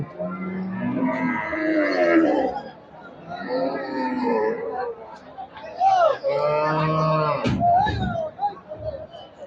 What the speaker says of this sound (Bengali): এই যে দেখেন বিশাল বিশাল গরু কিনে বেচা হচ্ছে।